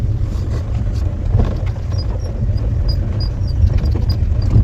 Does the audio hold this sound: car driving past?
yes